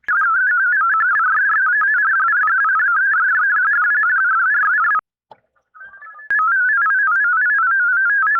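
VaraAC digital radio modem tones play from a radio speaker as a loud, fast warble around a single pitch. They stop for about a second, give a brief quieter burst, then resume.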